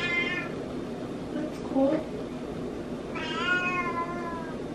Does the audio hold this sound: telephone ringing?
no